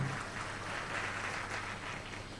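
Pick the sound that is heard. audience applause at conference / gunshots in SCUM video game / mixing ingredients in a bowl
audience applause at conference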